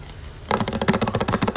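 Rapid typing on a keyboard to answer a chat during a podcast session, a close, busy patter of key clicks starting abruptly and running steadily to the end.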